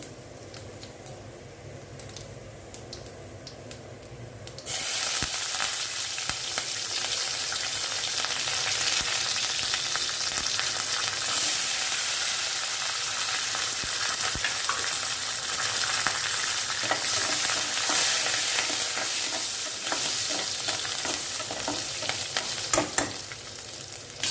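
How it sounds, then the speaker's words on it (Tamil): Garlic sautés in hot oil with fenugreek and fennel seeds for a masala kuzhambu; after a quieter start, a loud, steady sizzle swells up, with scraping stirs scattered through it and no talking. "பூண்டு சேர்த்தாச்சு, அது வதங்கிட்டோம் பார்க்கலாம்."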